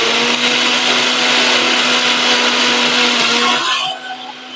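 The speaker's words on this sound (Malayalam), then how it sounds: "കൂട്ടാന് കുറച്ച് ഉള്ളിയും തേങ്ങയും മാത്രമാണ് കേട്ടോ അരയ്ക്കുന്നത്" A kitchen mixer grinder whirs loudly and steadily as it grinds onion and coconut for a curry, then winds down and stops near the end.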